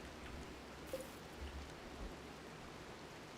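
Rain falling in RimWorld, a steady soft hiss of rainfall that runs throughout with no talking.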